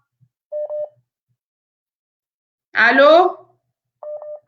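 A live phone call breaks down from a network problem: short electronic tones beep twice, a voice answers once, then the beeps return.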